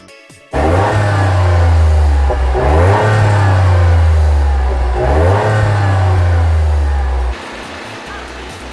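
A Toyota GR Yaris 1.6-litre turbo, 272 horsepower engine roars close by, revving hard in repeated rising pulls with gear changes between them, then dropping off abruptly near the end.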